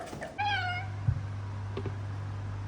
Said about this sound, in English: Did y'all hear my cat meow?